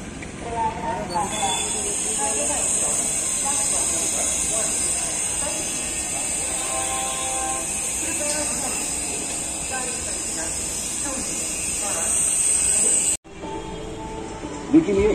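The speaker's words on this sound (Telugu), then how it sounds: "వారణాసి రైల్వే స్టేషన్ ఇది." Ambience at Varanasi railway station, with a steady hiss of a train and low rumbling hum under a faint murmur of voices, which cuts off abruptly near the end.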